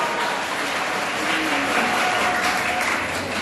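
Audience at a school quiz final in Limonade applauding, a dense, steady wash of clapping hands that holds at even loudness throughout, with no voices over it.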